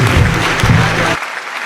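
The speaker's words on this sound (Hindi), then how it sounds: "ज़ोरदार तालियां हो जाए इनके लिए जी।" A mushaira audience breaks into applause for a poet: a brief burst of clapping layered over a low hum, which then cuts off abruptly into a quieter tail.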